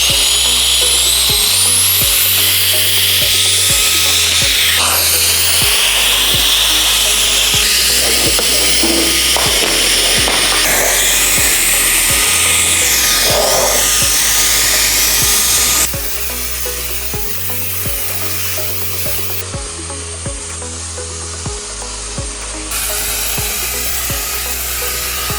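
A cordless Alpena turbo blower fan runs with a loud, high-pitched whirring whine that shifts in pitch and intensity as it is revved and adjusted, staying close and continuous over soft background music.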